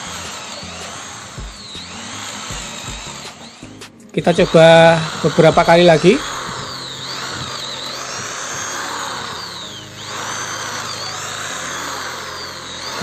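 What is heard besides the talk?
power drill boring 10 mm hole in Dutch teak wood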